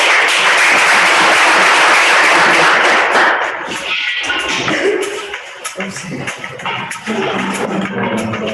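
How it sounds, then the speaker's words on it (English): Audience applause greets a presenter at a talk on rape and gender-based violence, a dense, loud burst of clapping for about three seconds that thins out into scattered claps beneath murmuring and room noise. "can you please give her a warm round of applause?"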